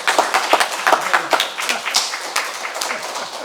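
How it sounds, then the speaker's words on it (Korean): A church congregation claps together during a Sunday morning service, with dense, irregular clapping filling the room at steady loudness and a few voices mixed in. "우리 박수 한번 칩시다"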